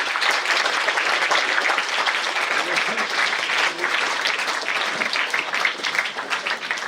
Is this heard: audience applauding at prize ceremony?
yes